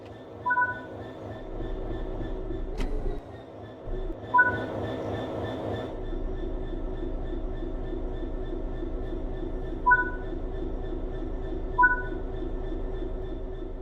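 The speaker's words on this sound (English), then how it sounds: "Let's get the train moving and see it all working." A train in the Train Sim World 3 simulator rolls along with a low steady rumble and rhythmic wheel clatter, under a sharp clank and repeated short electronic beeps from the cab.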